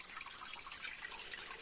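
Water runs from a pipe in a forest spring setting, a continuous bright trickling and splashing stream with a light bubbling texture, moderately near and alone without talk.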